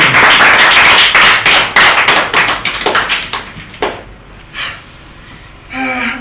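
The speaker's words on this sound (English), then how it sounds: "Give them another round of applause" A small group applauds a family on a stage show, a loud burst of close, sharp claps that thins out and fades to scattered hits within a few seconds, followed by a short murmur.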